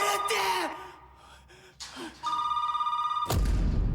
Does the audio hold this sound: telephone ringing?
yes